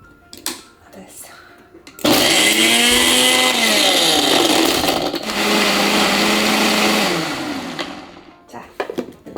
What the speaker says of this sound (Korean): 이 작은 컵도 얼음이 갈려? 응 얼음 갈린다더라고. 확실히 모터가 세서 그런가?